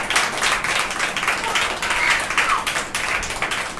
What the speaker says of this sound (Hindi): क्यों ना एक जोरदार ताली हो जाए प्रभु यीशु मसीह के लिए